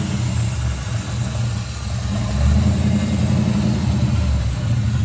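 A 1982 Pontiac Trans Am engine idles roughly, a steady low rumble with a slight rise in level partway through, heard alone at close range.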